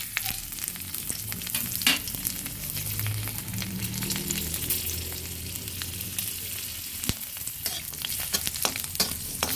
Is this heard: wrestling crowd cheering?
no